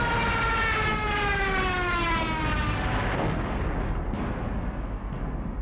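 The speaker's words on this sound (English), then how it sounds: "Squadrons of dive-bombing Stukas were given the job of destroying them." Stuka dive bombers attacking British radar towers in WWII: a loud, continuous wailing siren-like roar with falling pitch, layered over dense rumbling noise and explosive thuds throughout.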